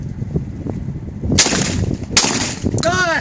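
Shotgun blasts at a baby shower shooting game outdoors, two loud sharp shots about a second apart over a noisy background of people, with a brief voice near the end.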